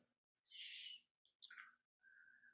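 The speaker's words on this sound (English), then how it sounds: "We have some bird visitors you may be hearing." Birds call outside during a quiet meditation session: a faint hissy chirp, a pair of short sharp calls, then a thin whistled note, each separated by silence.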